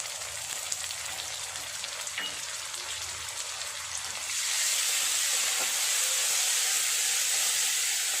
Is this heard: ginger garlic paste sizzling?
yes